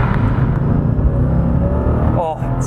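A Mercedes-Benz CLK DTM engine accelerates with a loud, steady rough drone, and a person talks over it.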